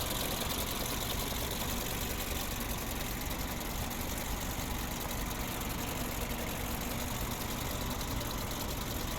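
A 2007 Mercedes-Benz B200 with a 2.0 petrol engine and automatic gearbox idles steadily, a constant close, even engine hum with no talking over it.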